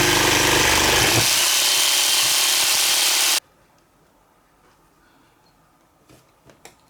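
An Italian jigsaw drawing around 6–7 amps runs loud and steady for about three seconds, then cuts off abruptly, leaving near silence with a few faint knocks afterward.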